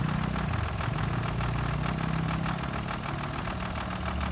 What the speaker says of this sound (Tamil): வண்டி வந்து ஸ்டார்ட் ஆயிடுச்சு